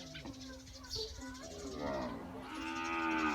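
A cow on a farm moos in a long, drawn-out call, close and clear, with a person talking over the background of other farm animal noise.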